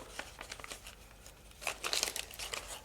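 Origami paper modules folded and crinkled by hand for a six-pointed star box, with soft close crinkles and rustles in irregular bursts, louder toward the end.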